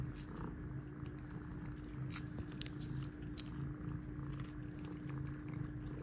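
A pet cat named Coco eats a treat held in its paws, making faint, soft chewing and biting sounds close by against a quiet room hum.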